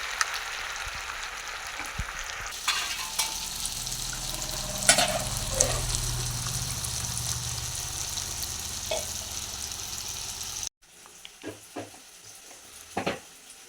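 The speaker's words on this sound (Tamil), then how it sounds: "அரிசி நல்லா பொரிஞ்சிருச்சு, அந்த மீனை வந்து அப்படியே சேர்த்துக்குறோம்" Rice frying in a pan with fish added in a home kitchen, a continuous sizzling hiss with occasional stirring scrapes, then a brief drop and quieter crackles with sharp clicks near the end.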